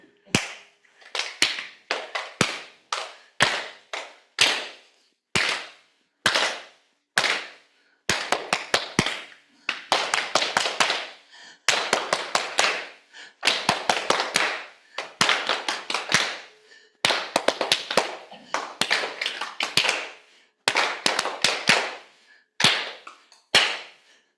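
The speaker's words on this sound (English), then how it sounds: "So I'll do a little rhythm and you can clap it back." Hand claps ring out in short rhythmic phrases during a Tibetan exercise session. Crisp, close claps come in groups, with short gaps between them as each pattern is clapped and then answered by a similar pattern, with almost no talk.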